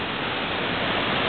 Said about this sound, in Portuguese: Fenomenal a cachoeira, muito louca.